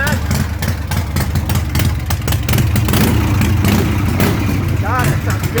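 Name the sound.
Harley Panhead Shovelhead chopper engine running after kick start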